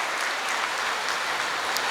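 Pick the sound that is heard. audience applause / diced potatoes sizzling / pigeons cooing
audience applause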